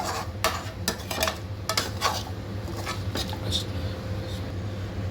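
Onions and spices being stirred in a pan, a metal spoon clanking and scraping against the cookware in quick irregular strokes over a faint sizzle, close and clear.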